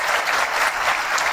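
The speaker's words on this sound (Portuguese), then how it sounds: "aplauda o Luiz Otávio" Audience applause fills the short stretch, a steady dense clatter of many hands clapping at a motivational talk, close and even throughout with no voices.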